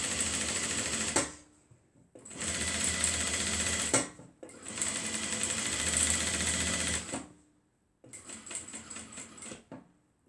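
Sewing machine stitching fabric for a crossbody mini bag, running in three long steady bursts and a shorter fourth run, with brief pauses between them, close and loud, no talking.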